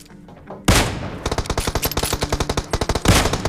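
A Kar98 rifle fires in a mobile battle royale game. Two loud single blasts stand at either end, with a rapid rattling burst of automatic fire between them, all close and forceful.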